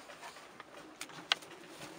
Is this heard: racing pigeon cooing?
yes